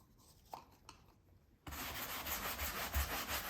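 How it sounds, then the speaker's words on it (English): A brush rubs wax in circles onto fabric painted with milk paint, starting as faint scratches and then turning into a steady, close rubbing sound. "you're going to apply some wax to the tip of your brush. You're going to apply it in a circular motion."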